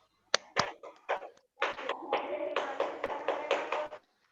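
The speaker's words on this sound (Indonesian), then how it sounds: "Ayo kita mulai semuanya. Tepuk pramuka." A group performs the rhythmic Pramuka scout clap, a patterned run of sharp claps that starts sparse and builds into denser bursts, close and clear with no talking over it.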